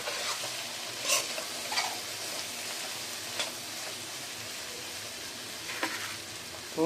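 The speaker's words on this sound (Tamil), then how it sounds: "நல்லா எண்ணெய் பிரிஞ்சு வர வரைக்கும் இந்த மசாலாவை நம்ம நல்லா கலரி கொடுத்துக்கணும்" Masala stirred and fried in oil over a low gas flame until the oil separates, for a jackfruit-seed channakunni masiyal; a steady close sizzle with soft scraping stirs every second or so, no talking.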